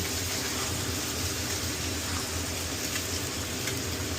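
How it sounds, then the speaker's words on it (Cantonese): Fish, for a postpartum fish soup, frying on its other side in a pan: a steady, dense sizzle with soft crackle throughout, fairly even in level, with no talking. "咁另一邊未熟，咁我哋煎下另一邊"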